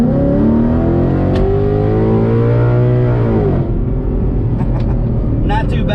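A naturally aspirated 2011 Ford Mustang GT running E85 revs hard through an acceleration pull, loud engine tone rising steadily then dropping at a shift, followed by rough engine rumble with clicks.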